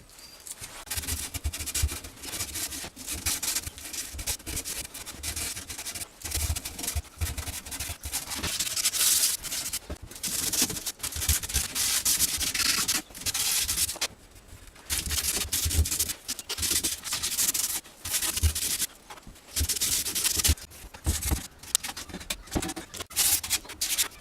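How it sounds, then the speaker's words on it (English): Coarse sandpaper rubs back and forth over a wooden poster frame in steady, close strokes with brief pauses between passes, a dry rasping scrape and no voices. "I'm going to start off with some rough sandpaper. I don't actually know what grit this is, but pretty coarse, and sand it down."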